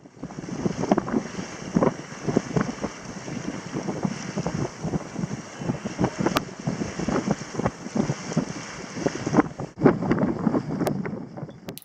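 A sailboat under sail with its engine running moves through a narrow channel, steady motor hum and water wash beneath gusty wind buffeting the microphone, no voices.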